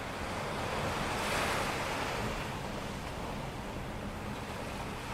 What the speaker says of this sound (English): seeing the waves and hearing the waves from a distance